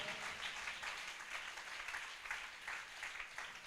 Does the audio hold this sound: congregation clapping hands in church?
yes